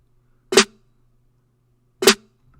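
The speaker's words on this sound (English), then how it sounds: "then I have 2 snares layered" Two crisp, layered trap snare hits, spaced about a second and a half apart, loud and close with a short, snappy tail.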